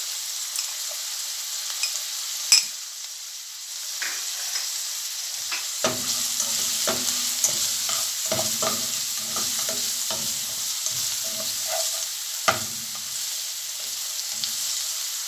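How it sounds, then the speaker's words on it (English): Onions and garlic stir-fry in a hot pan, a steady bright sizzle with repeated scraping and clinking of a spatula stirring through the pieces. "stir fry the onions a little bit. So I'm going to be adding our garlic."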